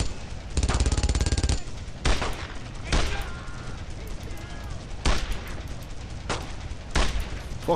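Machine gun fire in the World War II shooter Brothers In Arms: Road to Hill 30, with loud rapid bursts separated by short pauses and some voices in the background.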